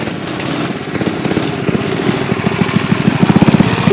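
A small mini bike engine runs steadily while being ridden over rough ground, a buzzy lawnmower-like drone with a pulsing rhythm that grows slightly louder toward the end, heard up close and on its own.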